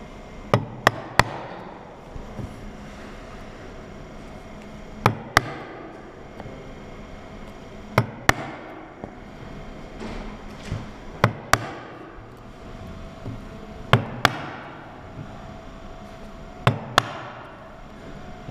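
A chisel cutting wood along a marked line, sharp mallet-like taps recurring every few seconds in pairs and clusters over a steady scraping texture, close and without talk.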